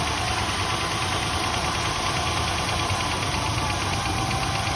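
A 1969 Buick Skylark V8, a barn find off the road for 36 years, idles steadily with a slight mechanical clatter, its even, close rumble running without a break and with no talk.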